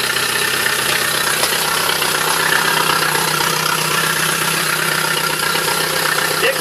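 A 2004 Yamaha F60 60 hp four-stroke outboard motor idles steadily in winter at -14°C, with an even, low mechanical chug and hum, loud and close, running without change.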